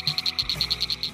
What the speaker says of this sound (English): The mating call of the inch-long northern cricket frog sounds like pebbles being clicked together.